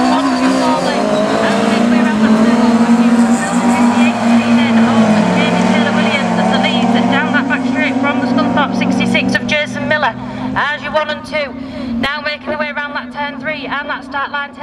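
Pack of race cars pulls away from the start at a circuit meeting, engines roaring loud and layered with rising revs and tire noise, as a commentator talks over the top.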